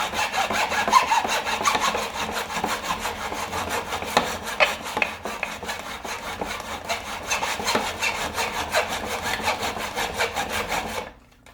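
A hand saw cuts wood in a miter box, its close, loud rasping strokes repeating in a steady back-and-forth rhythm for about eleven seconds before stopping abruptly.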